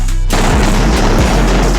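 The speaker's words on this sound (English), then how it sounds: "this story includes video and audio of gunshots" AR-15 semi-automatic rifle fired repeatedly at a vehicle, heard as loud, sharp booming shots in quick succession that overlap into a continuous crashing volley with no speech.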